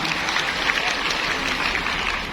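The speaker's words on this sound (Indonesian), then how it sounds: "tepuk tangan untuk Ino" Steady crowd applause from an audience at a Catholic gathering, a dense continuous wash of many hands clapping with no gaps, fairly loud and close.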